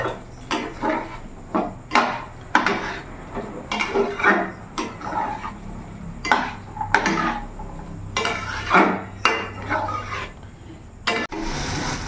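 Repeated scraping and clattering of a utensil against a pan as green peas are stirred and fried in spices, irregular strokes, close and fairly loud.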